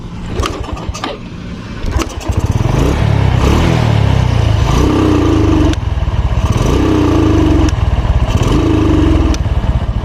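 A Honda Blade motorcycle engine revs in repeated loud bursts near the microphone, each throttle blip rising and falling, before the engine dies away.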